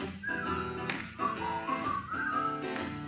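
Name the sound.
person whistling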